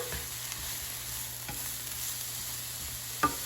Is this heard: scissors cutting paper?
no